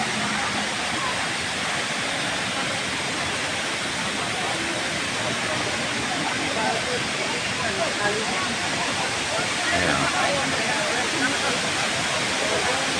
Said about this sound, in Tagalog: Ang kagandahan ng hinulugang taktak falls.